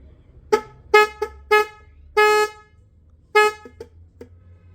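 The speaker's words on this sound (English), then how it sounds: "this new hooter that I just bought." A newly bought aftermarket horn for a BMW E30 325i, tested before installation, sounds a series of loud, bright honks: several short toots and one longer blast, with irregular gaps, heard close up over a faint low hum.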